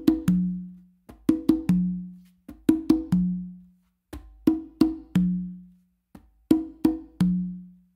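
Conga and tumba hand-drum pattern from the 3 a caballo rhythm: crisp slaps, soft ghost notes and ringing bass opens in repeating groups of quick strokes, played close and alone in a quiet room.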